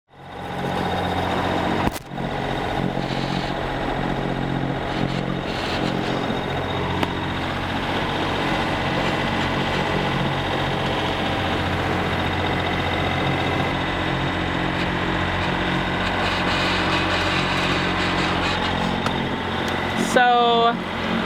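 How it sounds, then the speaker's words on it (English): A sailboat's inboard engine runs steadily at sea after the wind has died, a continuous low drone and hum that stays at an even level throughout, with a brief thump near the start and a short rattling burst near the end. "you can hear that we've had to turn on the engine because our wind died"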